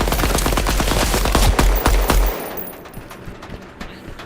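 Rapid automatic gunfire bursts from an online multiplayer shooter game, loud and dense for about two seconds, then thinning to scattered, quieter distant shots.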